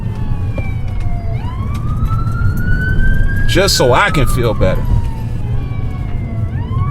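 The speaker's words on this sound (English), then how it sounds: "It's always a fucking ambulance here in New York" An ambulance siren wails along a New York street, sweeping up and down through a nearby pass with a brief burst of yelping mid-way, loud over steady traffic rumble while someone talks close by.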